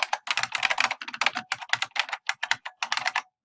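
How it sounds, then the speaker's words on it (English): Clicky computer keyboard typing a terminal command, a quick burst of sharp, close keystrokes in an uneven rhythm with brief pauses, no voices. "Sorry about my clicky keyboard."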